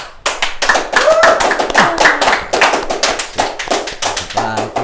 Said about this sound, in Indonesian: Pagi-pagi harus di brief tepuk tangan dong.